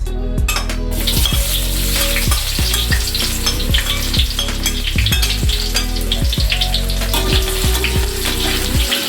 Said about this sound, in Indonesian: Mari kita tumis bawang putih sama bawang merahnya dulu yang sudah kita iris.